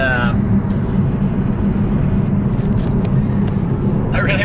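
A car engine pulling steadily in third gear, a loud continuous drone with a turbo-boosted build, heard from inside the cabin, with brief talk near the start and end.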